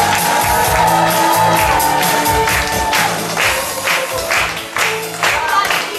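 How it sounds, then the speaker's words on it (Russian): Audience at an award ceremony in Vienna applauds loudly with cheers and whoops, dense clapping and crowd noise sustained throughout under music-like tones. "и аплодисменты"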